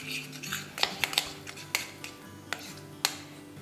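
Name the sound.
stirring chicken with chicken masala in a bowl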